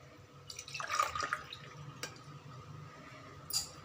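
Water is poured from a glass onto rice and toor dal in a pot, a short close splashing pour followed by a few scattered drips and light clinks, fairly faint, with no talk.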